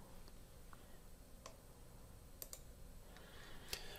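A computer mouse clicked a few times during account setup on a website: sparse, sharp, faint clicks spread out in a quiet room with a low background hiss.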